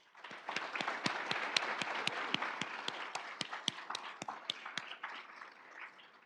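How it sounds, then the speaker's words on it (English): An audience at a financial health first responder event claps in a moderate round of applause, with crisp, scattered claps over a soft wash that fades toward the end. "Please give them a round of applause in appreciation for their ability to show up every single day."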